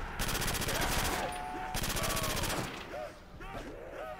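Automatic weapon fire in Call of Duty World at War custom zombies, rapid loud bursts of shots with brief pauses between, close and dominant, with faint game sounds underneath.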